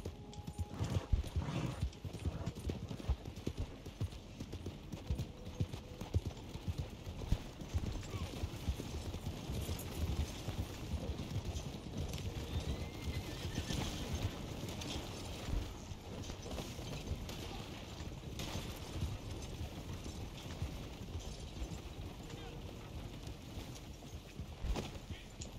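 Horse hooves clip-clop steadily in Red Dead Online, a rapid, continuous rhythm of close hoofbeats over a busy game background, with people talking at times.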